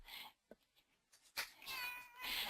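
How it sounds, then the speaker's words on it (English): A house cat on a desk gives a short, soft meow close by in a quiet room, followed by rustling and brushing noises as it moves about. "So if you heard that little meow, that's what it was."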